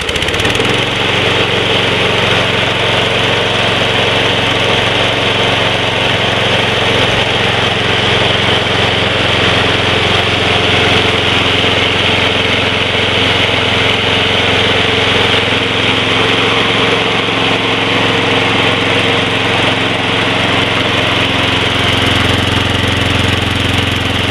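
A Snapper Big 6 Ninja lawn mower, model FRP216012, runs on a freshly fitted starter rope. Its small engine drones loud and close at a steady, slightly knocking idle for the full stretch, with no talk over it.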